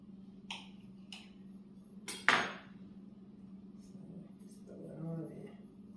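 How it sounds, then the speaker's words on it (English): A knife cuts slivers of butter for a peach biscuit dessert, making a few sharp clinks and taps against the dish, with one louder scrape in the middle, over a steady low kitchen hum. "I'm going to slice some of this butter."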